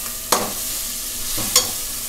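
A pan of Tamil-style coconut milk curry simmers over low heat with a steady faint sizzle and bubbling, broken by two short stirring scrapes of a spoon against the pan, close and alone.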